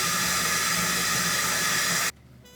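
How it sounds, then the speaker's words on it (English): Tap water runs in a steady, loud, close rush while face cleanser is rinsed off during a morning skincare routine, then cuts off abruptly near the end. "Okay, now we rinse."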